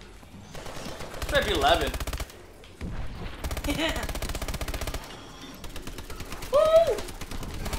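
Bursts of automatic gunfire from Call of Duty: Advanced Warfare Exo Zombies, fired in short volleys with pauses between them while players talk and cheer over the shots.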